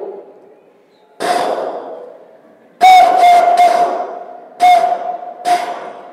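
A voice imitates the cooing call of a spotted dove with a few whistle-like, echoing hoots in short bursts, loud and close amid room reverberation.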